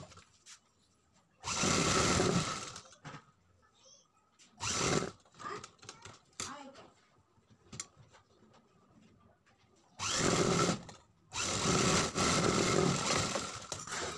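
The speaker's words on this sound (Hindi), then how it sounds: "पेस्टिंग के बिल्कुल किनारे से सिलाई लगानी है।" A sewing machine stitches the back neck of a blouse in several separate bursts of rapid whirring, a short run, then a brief one, then two longer runs near the end, with quiet handling and pauses between.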